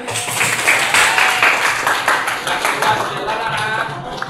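A classroom of eighth-grade students claps for the winning discussion group, a dense, energetic burst of many hands that stays loud throughout and fades slightly at the end, with no one speaking.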